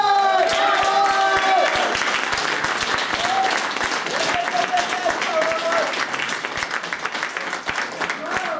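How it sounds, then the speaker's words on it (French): Audience applause and cheering erupt to welcome a performer onto a stage, steady and full throughout, with music tones sounding beneath the clapping. "Je pense que vous allez pouvoir faire un triomphe d'applaudissements pour Mademoiselle Octobre"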